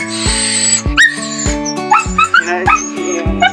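A dog named Buddy lets out a few short barks and yips, close and loud, over steady background music.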